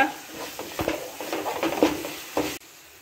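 Red chilli and pepper powder are sautéed in a pan for spicy pepper chicken gravy: a spoon scrapes and stirs against the pan with light sizzling and a few clinks, close and moderately loud before it cuts off abruptly.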